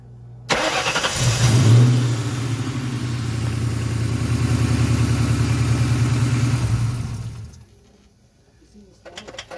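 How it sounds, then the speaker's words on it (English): A Nissan 280Z engine cranks and catches, revving up loudly before settling into a rough, steady running note close by, then cutting off and fading toward quiet at the end. "we're gonna do some filming here while we start the car"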